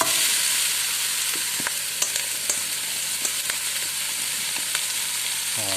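Raw potatoes tipped into a pan of browned onions for tartiflette, then frying with a steady loud sizzle and a few scattered clinks and stirring scrapes throughout.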